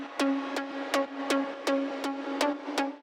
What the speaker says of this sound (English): So next is the Pluck sound, and that sounds like this.